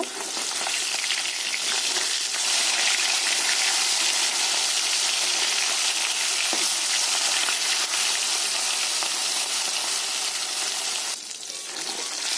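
Rohu fish, just turned over, fries in hot oil with a loud, steady sizzle and crackle filling the whole stretch, easing slightly near the end.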